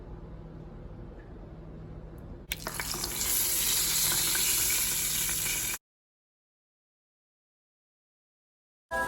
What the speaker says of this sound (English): So right now I am oiling the pan.